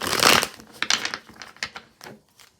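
Tarot cards being shuffled by hand: a dense papery riffle burst at the start, followed by several shorter flicks and taps of cards, close and fairly loud with no talking.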